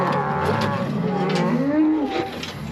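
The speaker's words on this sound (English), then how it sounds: "Here's our first draft of calves we pulled off." Calves moo repeatedly while being worked into a new handling facility, several overlapping bawls close by over a steady background, with no talk.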